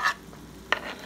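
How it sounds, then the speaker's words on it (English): Two pounds of ground beef with vegetables sizzle in a pan as a spoon stirs and breaks up the meat, with two short, close scraping bursts over a faint hiss. "I'm gonna saute my meat and my vegetables until my meat is browned"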